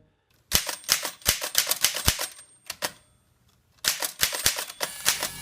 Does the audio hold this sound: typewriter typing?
yes